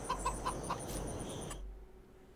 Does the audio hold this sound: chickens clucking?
yes